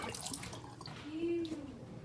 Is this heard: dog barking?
no